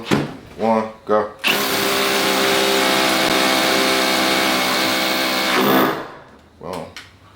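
Milwaukee M18 Fuel rotary hammer (2713-20 or 2715-20) drilling in hammer drill mode, a loud continuous grinding roar lasting several seconds before winding down, with short bursts of speech before and after.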